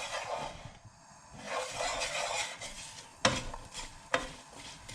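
Spices being stirred into hot oil in a pan, with a level teaspoon of cumin among them: a steady scraping stir over a soft sizzle, and two sharp utensil knocks against the pan near the end.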